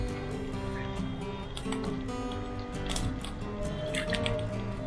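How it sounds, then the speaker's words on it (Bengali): Mustard oil poured into a pan while cooking prawns with red spinach, a soft liquid trickle and drip, close, continuous and moderately loud over a busy kitchen background with no talk. "দিয়ে দিচ্ছি সরিষার তেল।"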